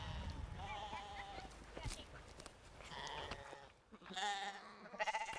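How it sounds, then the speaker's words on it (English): Old-fashioned Norwegian sheep bleat repeatedly, nearby and fairly loud, in several wavering calls interspersed with people talking. "This is kind of an old-fashioned Norwegian kind of sheep."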